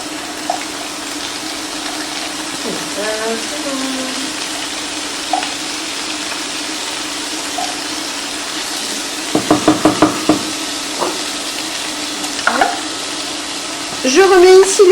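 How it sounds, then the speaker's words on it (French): Blended courgettes frying in a pan with peppers give a steady soft sizzle throughout, with a few louder scraping or clattering bursts in the middle and at the end. "je vais les ajouter ensuite dans ma poêle avec les poivrons."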